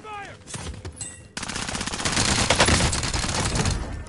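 Rapid video game gunfire: a short burst, then sustained automatic fire that rattles on loudly and steadily for several seconds, with a brief lighter patch before it resumes.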